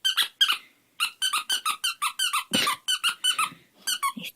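A dog's squeaky toy squeaks repeatedly in quick bursts and short runs, loud and close, with brief pauses between bursts and no talking.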